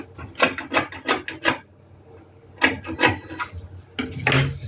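Scissors snip through a fabric sleeve pattern with seam allowance in quick rhythmic bursts of rasping cuts, a pause, then more cutting, close and clear.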